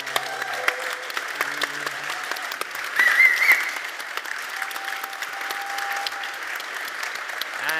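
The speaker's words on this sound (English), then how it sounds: "Let's give them a huge round of applause." A conference audience at Codegarden 2022 gives a big round of applause, with dense, lively clapping throughout, a few cheers and whistles rising near the middle, and the crowd sustaining it without any speech over it.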